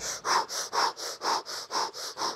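Rapid rhythmic breathing during an endurance strength workout, about ten short, sharp, close breaths in quick even succession, each a loud airy huff through the nose or mouth, with no talking.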